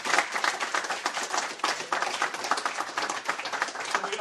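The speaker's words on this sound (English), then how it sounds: "Let's give Gus another round of applause" An audience at a PyData Ann Arbor meetup applauds after a talk on algorithmic trading, dense overlapping hand claps forming a continuous moderately loud patter throughout, with no speech on top.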